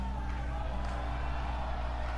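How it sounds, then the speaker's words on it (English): A video game wrestling crowd cheers in a steady, dense roar, continuous and fairly loud throughout the short stretch. "Fans actually cheering for Sakura now."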